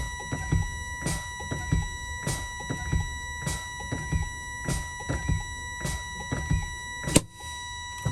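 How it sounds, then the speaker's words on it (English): Truck air brakes pumped over and over during a CDL air brake check in California until the red and yellow parking brake valves pop out; a steady series of sharp air bursts and thunks, with a louder pop near the end. "I'm now going to fan my brakes."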